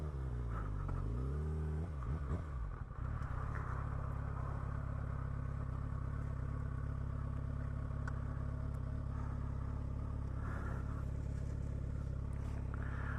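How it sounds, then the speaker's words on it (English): A motorcycle turning around on gravel, its engine idling and revving low and steady up close, with crunching and clatter from the loose stones under the tires. "I'm gonna turn around and drop it in the gravel"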